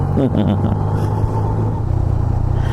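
A 2018 Yamaha MT-09 motorcycle engine idles and pulls away as the clutch is let out without throttle, a steady low rumble with no rise in revs, heard loud and close with a voice speaking briefly at the start.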